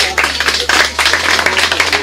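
Audience at a live show in Kalamata breaking into dense, steady applause, many hands clapping close and loud for about two seconds with a low hum underneath.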